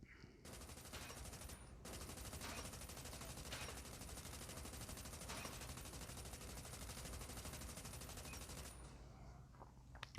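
Sustained automatic weapon fire in the Call of Duty Mobile shooter game, a dense unbroken rattle of rapid shots lasting most of the stretch, fairly quiet overall with a few brief pauses.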